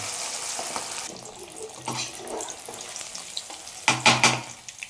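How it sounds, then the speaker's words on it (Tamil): Fish pieces deep fry in oil with a wet, bubbling sizzle, broken by bursts of clatter and splashing that grow louder toward the end. "இப்போ எண்ணெயில் போட்டு ஒவ்வொரு பீஸாக உள்ளே போட்டு எண்ணெயில் போட்டு எடுக்கலாம்"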